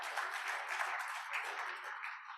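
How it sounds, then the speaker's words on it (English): Birthday applause from an audience at a Raleigh Kiwanis club meeting, a steady wash of clapping filling the room at moderate loudness and tapering slightly at the end. "Let's give all of them a round of applause and wish them a happy birthday."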